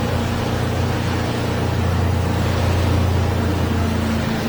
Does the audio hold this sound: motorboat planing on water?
yes